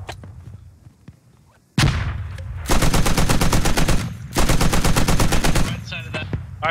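Sustained automatic machine gun fire in the military shooter game Squad, loud and close, rapid evenly spaced bursts running for several seconds with a short pause midway, preceded by a heavy blast and quieter background battle noise.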